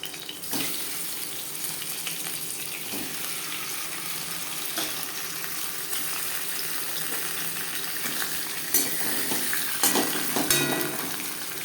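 Fish sizzles in hot oil in a home kitchen while being fried for a fish curry, a steady close hiss with a few brief louder crackles and clatters near the end.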